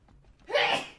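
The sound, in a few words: sneeze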